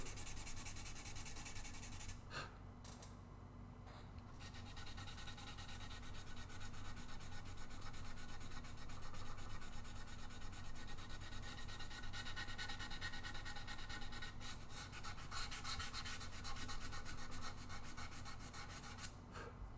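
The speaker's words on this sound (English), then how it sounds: "problem with beveling is you have to sand all the bevels." Steady, continuous sandpaper rubbing over the beveled edges of a guitar body keeps a faint, even rasp going for the whole stretch with no talking.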